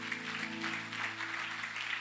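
Church congregation applauding, a soft, steady patter of clapping hands that carries on evenly, with faint sustained tones beneath.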